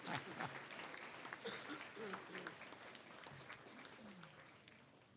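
Sustained applause from a sizable crowd at a college graduation ceremony, a dense steady patter of many hands clapping at once, fairly loud throughout with a few louder sharp claps.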